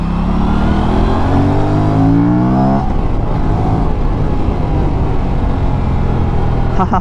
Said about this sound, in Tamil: வண்டி சவுண்ட் நல்லா இருக்குங்க ஃபேமே.